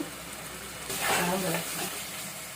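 Onions and tomatoes frying in a pan for a gongura prawn curry, a soft steady sizzle that swells for about a second as the chopped tomatoes go in and are stirred, then settles.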